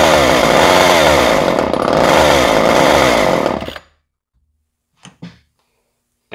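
A Craftsman 2.0 chainsaw engine runs loud and buzzing up close for several seconds, then cuts out abruptly into silence. A couple of brief knocks and clicks follow.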